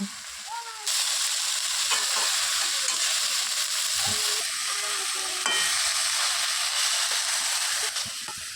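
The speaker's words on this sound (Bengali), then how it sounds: "এর মধ্যে পরিমাণ মতো নুন দিয়ে ভালো করে এটাকে ভেজে নেব" Chopped bottle gourd leaves fry with salt in a pan, a loud continuous sizzle that starts abruptly, broken by occasional scraping stirs and light utensil knocks.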